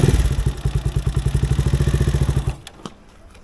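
Motorcycle engine running close by with a rapid, steady thumping beat for about two and a half seconds, then cutting out abruptly and leaving faint clatter.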